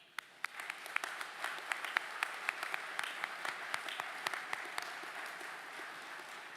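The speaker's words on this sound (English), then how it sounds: "round of applause to you for your commitments and your travel" An audience at a naval nuclear power training unit class event claps after a round of applause is called for. Dense, steady clapping from many hands builds quickly and holds for several seconds, with crisp individual claps standing out near the front.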